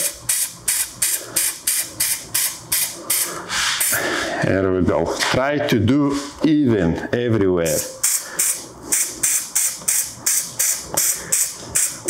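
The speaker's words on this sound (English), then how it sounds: "And now I can go and spray all other surface." Repeated short hisses of an aerosol adhesive being sprayed in steady bursts onto an Audi 200 door upholstery panel, close and loud, pausing while someone talks in the middle before the rhythmic spraying resumes.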